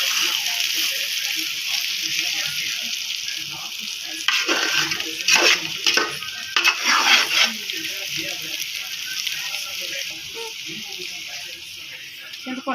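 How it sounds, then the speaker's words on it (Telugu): Tamarind water poured into a pan of sizzling stuffed eggplant curry, a steady close hiss with bursts of louder spluttering and stirring clatter in the middle, no talk. "ఇప్పుడు చింతపండు పోతాము."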